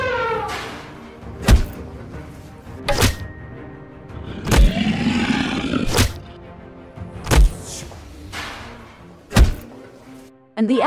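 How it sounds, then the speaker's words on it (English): Zoo animals in a video game bang hard on locked iron cage doors: loud, heavy metallic thuds repeat about every one and a half seconds, each followed by a ringing clatter. "Animals in the zoo are banging hard on the cage door."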